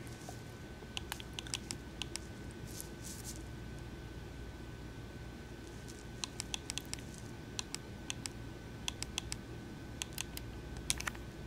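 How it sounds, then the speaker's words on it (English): Typewriter keys clatter in Resident Evil 2 in quick, irregular bursts of crisp clicks over a low ambient hum, with pauses between clusters and no voices. "A typewriter."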